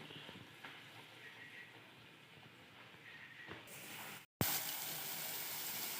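Puri dropped into hot oil in a home kitchen sizzles and hisses steadily at low volume, followed by a sudden louder burst of frying after a brief cut.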